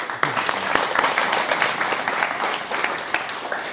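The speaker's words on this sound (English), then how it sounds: "Round of applause." A crowd at a guide dog graduation applauds steadily, a dense wash of many hands clapping at moderate volume, with no voices over it.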